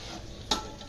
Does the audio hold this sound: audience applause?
no